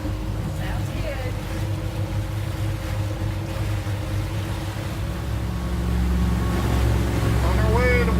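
Motorboat cruising at about 15 knots on a day trip to White Island gives a steady, close engine drone with water rushing beneath it, growing slightly louder toward the end.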